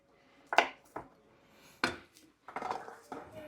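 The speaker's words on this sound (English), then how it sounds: "Start slicing my potatoes or my carrots on down." Carrots cut with a knife on a board in a home kitchen while making beef stew, giving a few sharp, separate chops spaced out over a few seconds, close and clear.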